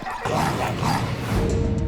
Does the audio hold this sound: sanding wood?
no